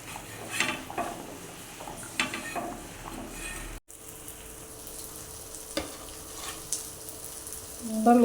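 Fish curry made with lake fish is stirred in a pot, giving soft scraping and sloshing strokes over a low, steady simmering sizzle, close and fairly quiet.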